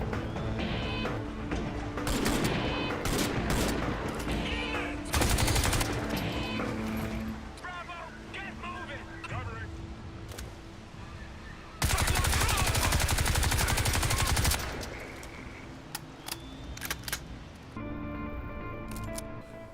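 Weapons fire in the Crysis 3 shooter game, with rapid automatic bursts and loud single shots cutting through busy battle effects, and someone talking over parts of the action.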